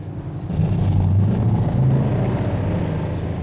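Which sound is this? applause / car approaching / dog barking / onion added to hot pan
car approaching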